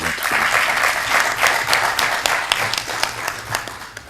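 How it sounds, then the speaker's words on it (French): Audience applause at a closing ceremony in a hall, a dense, lively burst of many hands clapping at close range, sustained throughout with sharp individual claps standing out. "Alors on peut vous applaudir,"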